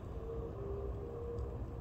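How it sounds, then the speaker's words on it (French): Distant motorcycle on a road, a faint steady engine drone holding a constant pitch under low background rumble, heard from afar. "Bon, ça c'est une moto."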